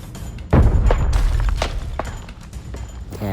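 A heavy video game grenade explosion booms suddenly in Arena Breakout, followed by rumbling and a few smaller thuds and pops fading over a few seconds.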